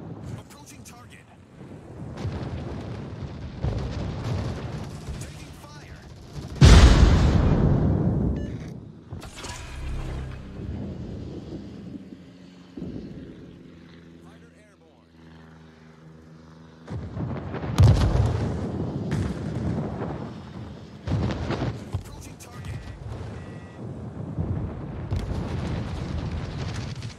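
Gunfire and explosions hit a ship during a naval video game battle, rumbling booms and sharp blasts over a constant wind-like roar, with two especially heavy nearby impacts a few seconds apart and brief stretches of speech.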